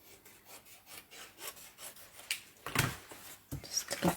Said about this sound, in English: now I might need to just trim my card a little bit